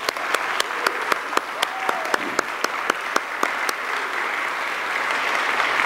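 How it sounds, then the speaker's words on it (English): Applause from an audience gathered for a mission trip presentation comes as steady, evenly spaced claps that carry on for several seconds. "they deserve a round of applause for all the hard work they did"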